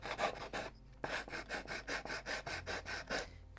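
A wooden ship model's bulkheads being sanded level with sandpaper, a steady rhythmic rasping of about a dozen close back-and-forth strokes with one short pause near the start.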